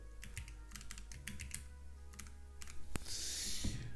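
Rapid, close clicking of keys on a computer keyboard comes in uneven bursts during a coding session, with a louder clack near the end.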